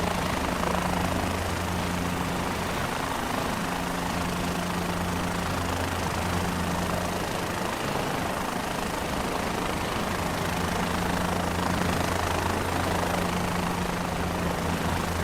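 A helicopter engine runs in a flight simulation game, a steady loud rotor drone with a low throbbing hum that holds constant throughout, with no talking.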